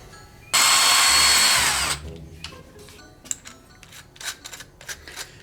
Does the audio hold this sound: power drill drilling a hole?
yes